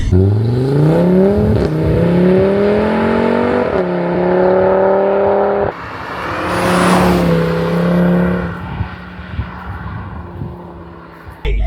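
A 460 bhp Audi RS3 8P Stage 2 with quattro all-wheel drive launches hard in a 0-60 run, its engine note climbing loudly and steadily through several quick gear changes before easing off near the end.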